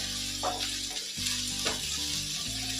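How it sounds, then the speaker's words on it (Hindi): Onions sizzle and crackle steadily in a hot pan, a dense close frying hiss with a few brief stirring scrapes, no voices. "और प्याज को हमें अच्छे से पकाना है।"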